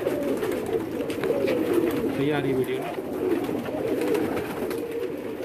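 Pigeons coo softly on a Karachi rooftop among a fancier's birds, a low repeated burbling close by, with someone speaking briefly over it.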